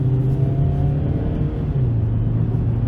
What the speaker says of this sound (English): let's watch this acceleration in eco mode as I put my foot into it.